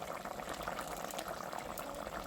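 Bommidayi fish curry bubbles steadily in a pot, a dense, continuous simmering burble heard close and alone for a couple of seconds.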